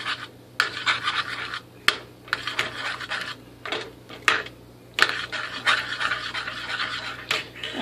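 Protein powder being mixed into a breakfast bowl, heard as repeated scraping and clinking strokes against the bowl in uneven bursts with short pauses between them, close up and with no talking.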